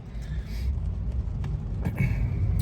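A car drives along a wet road in the rain behind a truck, with a steady low rumble of engine and road noise and a continuous hiss of rain and tyre spray close by.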